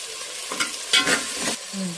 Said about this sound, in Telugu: ఇప్పుడైతే కట్ చేసి పెట్టుకునే టమాటా ముక్కలను కూడా వేసేసుకుంటున్నా